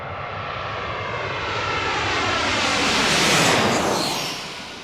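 A jet airliner at Washington's Reagan National Airport roars past close by, its engine noise swelling steadily to a loud peak and then starting to fade, with no voices.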